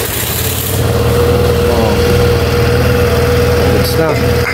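A Suzuki Burgman scooter engine idles steadily and close by, a constant low hum with a faint tone over it that holds level for the whole stretch.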